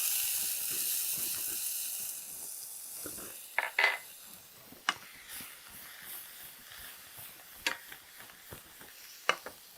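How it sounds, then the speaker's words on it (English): Garlic sizzles in butter in a saute pan with a soft, steady hiss, broken by a few sharp clinks and scrapes of a utensil against the pan. "I'm gonna add some garlic."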